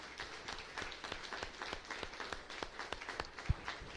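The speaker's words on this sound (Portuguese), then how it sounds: "Uma salva de palmas ao nosso Deus." A church congregation claps during a worship service, a quiet, uneven patter of hands with one sharp louder clap near the end.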